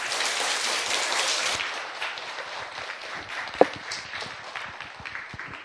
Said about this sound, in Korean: 큰 박수로 모실게요.